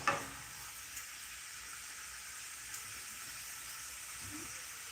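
Lamb frying in a pan for tacos gives a steady, faint, even sizzle throughout, with an occasional soft clink or stir near the start.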